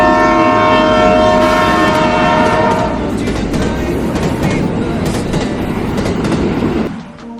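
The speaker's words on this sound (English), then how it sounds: "I'm taking a train, like a commuter's train, all the way to the CBD." A Nairobi commuter train's horn sounds loudly at the start, then the rumble and rhythmic clatter of the passing train carries on before fading.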